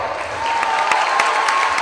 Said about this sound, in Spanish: Amalia Bernal, un aplauso.